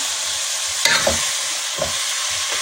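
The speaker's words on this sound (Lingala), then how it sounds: "Nazobalola" Matembele greens and pilchards fry in a pan while being stirred, giving a constant close sizzle broken by a few distinct scraping stir strokes.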